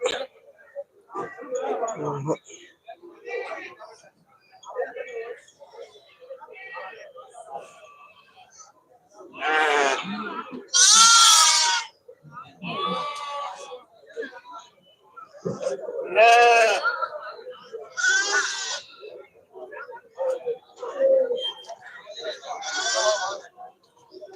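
Several sheep bleat in short wavering calls, some close and loud, amid a busy crowd at the Melapalayam goat market with people talking throughout.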